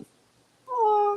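A house cat gives one loud, drawn-out meow close by, rising then falling, after a short spoken exclamation at the start.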